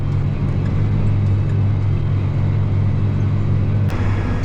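A farm tractor running in 11th gear drones steadily and loudly close by, a continuous low engine rumble that holds constant throughout.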